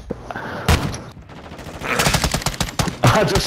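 Rapid bursts of gunfire from the video game Call of Duty: Modern Warfare II, loud and close, with sharp repeated shots in quick volleys.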